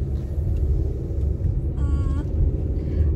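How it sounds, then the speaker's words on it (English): Stormy weather outside in Las Vegas gives a steady, low rumbling roar that fills the whole stretch, with a brief tonal whine partway through. "it's really stormy"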